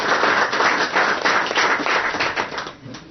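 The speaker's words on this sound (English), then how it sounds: "Please give a round of applause for the panelists." An audience at an unDavos 2026 panel session applauds the panelists, with dense, sustained clapping that stays loud throughout and tapers slightly near the end, no voices over it.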